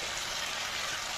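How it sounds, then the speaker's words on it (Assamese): Local chicken meat and potatoes frying in a pan with spices and ginger-garlic paste, giving a steady, dense sizzle throughout with no voices. "এতিয়া মাংসখিনি অলপ সময় এনেদৰে ভাজি ল'ব যাতে আলুও অলপ সিজে।"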